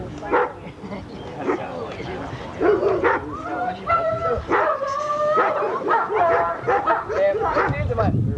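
Dog, apparently a puppy, barking and yipping during bite training, with repeated sharp barks and whimpers in irregular bursts, close by, while people talk over and between them.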